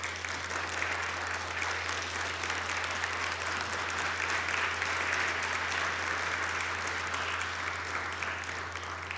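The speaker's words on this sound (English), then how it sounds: "graduates, please stand and give a big round of applause to all those who have supported you." A large graduation audience at a University of Manchester ceremony applauds steadily and loudly, a dense, sustained wash of clapping from many hands with a low hum underneath and no speech.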